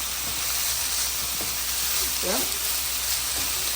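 Vegetables fry in a pan with a loud, steady sizzle and hiss throughout, with a faint voice briefly in the background.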